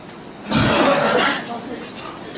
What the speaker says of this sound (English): 1, 2, 3, inhale. Then cough.